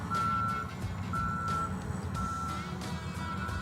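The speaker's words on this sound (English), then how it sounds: "The dump truck's on its way to dump this final load." A toy dump truck emits steady reversing beeps, evenly spaced repeated tones over a continuous low rumble and clatter, heard alone without talking.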